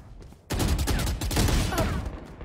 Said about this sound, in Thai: นี่มันยิงหนูเมื่อกี้มันยิงหนูไอ้ตัวนี้แหละ